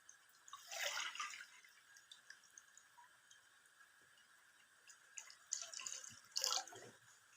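Water splashes and drips in a few separate bursts as it is poured into a soup pot holding cleaned trotters, close and fairly quiet, with short pauses between pours and no one speaking.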